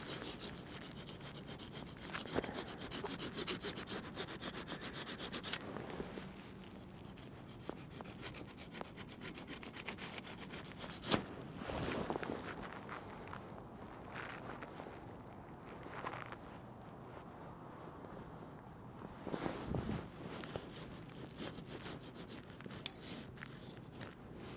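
Gasket material being scraped from around the bolt holes of a 2JZ engine block during a bottom-end teardown, a steady close-up rasping and rubbing that continues for about eleven seconds, then lighter, intermittent scrapes.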